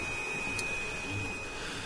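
A steady mechanical whir with a thin high whine runs throughout at an even level, like a machine working nearby with no pauses.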